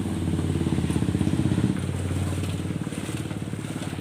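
Motorcycles ride through floodwater on a flooded street, their engines giving a steady, close, low puttering rumble that shifts slightly partway through, with no talk.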